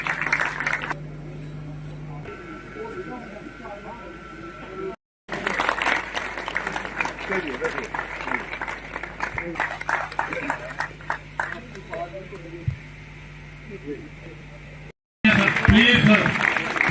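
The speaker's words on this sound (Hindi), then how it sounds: "तालियां सर, जोरदार तालियां सर।" Audience applause at an ex-servicemen welfare association program in Kathua, Jammu and Kashmir: sustained clapping from a crowd with someone speaking over it, then a louder burst of clapping at the end.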